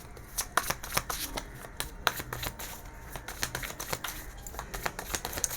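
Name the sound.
shuffling tarot cards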